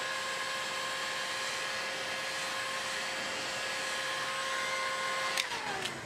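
A heat tool blows hot air to warm glue on a PVC flat bow, a steady, close whirring drone with a constant tone that holds throughout, then shifts slightly in pitch near the end.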